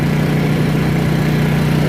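A Honda EU2000 portable generator runs steadily close by, its engine giving a loud, even hum with no speech over it.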